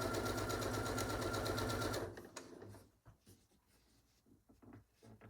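A sewing machine stitches fabric for a small pin cushion, a fast steady mechanical whirr for about two seconds, then it stops and soft handling clicks and rustles follow, quiet and close.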